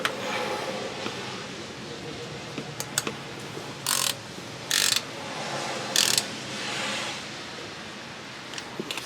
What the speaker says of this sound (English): Grab a ratchet, I'll put that one in by hand.